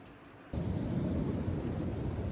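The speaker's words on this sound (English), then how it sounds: "at some point, this rain is going to stop" Steady, dense rain pours down at an allotment, a loud even hiss with low rumbling that swells abruptly after a quieter opening moment, with no voices.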